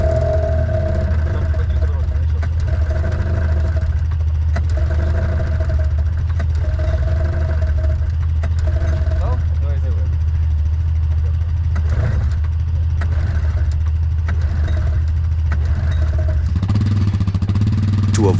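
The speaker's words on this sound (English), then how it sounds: "we try simultaneously pressing the gas handle to start it" A snowmobile engine at a mountain cabin site in the Canadian woods starts with the throttle held and settles into a loud, steady idle with mechanical clatter; a voice talks over it.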